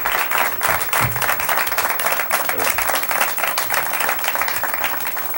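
An audience claps at a cultural show, a dense sustained burst of applause filling the room at steady strength, close and loud, with faint voices beneath.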